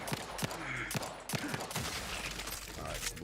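Gunfire in the sci-fi shooter game The Outer Worlds 2: several sharp shots spaced irregularly over a constant busy game background, with no talking.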